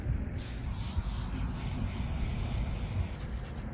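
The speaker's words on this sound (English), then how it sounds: "And we're just gonna spray it, watch it dry for a little bit, and then stick it up." Soft hissing spray of an aerosol applied to a piece during a van build, a continuous close rush lasting several seconds with a brief pause near the start and end.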